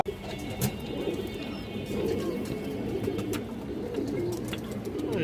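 Pigeons, including a male Muslim-dom breed bird, coo in soft repeated low calls close by, with scattered chirps and light background clatter throughout.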